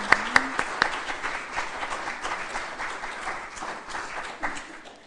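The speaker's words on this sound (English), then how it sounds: "Let's have a moment of applause for those light bearers." Applause from a congregation honoring the light bearers at a chalice-lighting service, a steady wash of many hands clapping with a few sharper, nearer claps standing out at the start, tapering off slightly toward the end.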